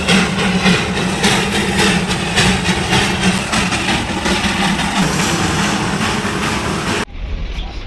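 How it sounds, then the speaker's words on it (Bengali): Darjeeling toy train passing close by on its mountain line near Batasia Loop, a steady heavy rumble of engine and rolling noise that fills nearly eight seconds before cutting off abruptly near the end. "টয় ট্রেন যাচ্ছে, দেখো।"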